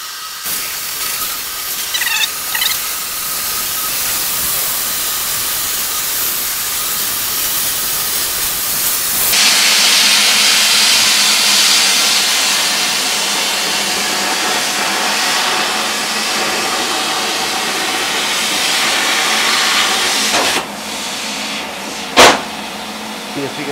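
A steady roaring hiss of a plasma cutter slicing metal during a steady rest repair, loud and continuous, shifting in tone partway through, then a sharp pop near the end as the cut stops.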